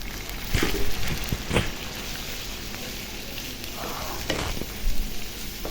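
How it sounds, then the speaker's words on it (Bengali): Mixed ground spices such as turmeric, coriander and cumin frying in a pan, a crackling, rain-like sizzle with a few louder bursts of stirring and scraping. "মশলাটা ভালো করে কষিয়ে নেব"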